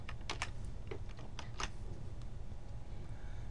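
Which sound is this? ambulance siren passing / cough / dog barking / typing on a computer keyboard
typing on a computer keyboard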